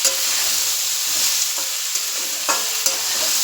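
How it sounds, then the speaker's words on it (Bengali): Prawns frying with ridge gourd in a pan, producing a steady close hiss of sizzling oil with a few soft clicks as the pan is stirred and covered. "ঢেকে এটাকে ভালো করে ভেজে নেব।"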